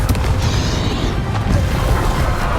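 Loud, continuous blasts of a Confringo fire spell in Hogwarts Legacy during the final mission battle against Ranrock, with heavy rumbling booms that overlap into a dense, roaring wall of impact noise.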